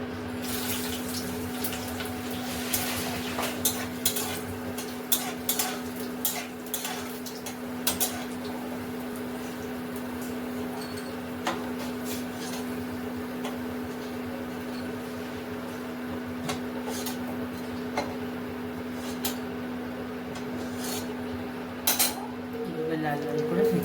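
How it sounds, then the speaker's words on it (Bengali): Red lentil vadi frying in a hot pan, a steady sizzle with a constant hum beneath, scattered clinks and taps throughout, while someone talks over it. "লাল লাল করে ভেজে নিচ্ছি।"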